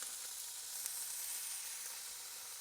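Scallops searing in a hot pan, six of them laid in and left still, giving a steady, even sizzle that stays close and constant with no voices over it.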